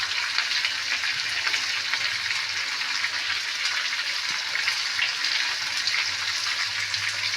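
Tomato, garlic and ginger frying in a pan for an egg fry curry, a steady close hiss and sizzle that holds even throughout with faint stirring beneath, no voices.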